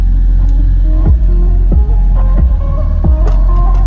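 Heavy bass from a car speaker throbs through the seat, a loud low hum broken by deep rhythmic pulses about every 0.7 seconds, felt as much as heard.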